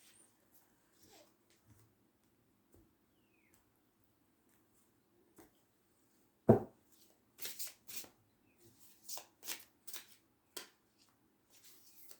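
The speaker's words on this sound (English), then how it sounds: "we're going to use my new cards that Kristen got me" A new deck of cards is shuffled after a quiet stretch, starting with one sharp snap and then several quick riffling bursts close by, with no voices.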